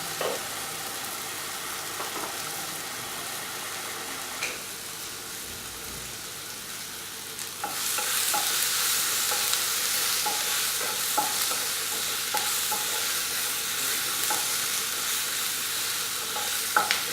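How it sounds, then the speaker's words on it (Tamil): Onions and tomatoes sauté in a pan for chapati noodles, a steady close sizzle that jumps louder about halfway through, with scattered scrapes and taps from stirring throughout. "கொஞ்ச நேரம் வதங்கட்டும்."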